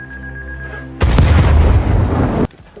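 A radio tower blows up in an action film, a loud sustained blast of rumbling explosion and debris roaring for about a second and a half before cutting off abruptly.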